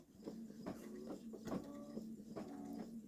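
A Babylock Solaris 3 embroidery machine works a satin stitch, giving a quiet, rhythmic series of mechanical clicks and thumps roughly every half second over a soft motor whir, heard alone up close.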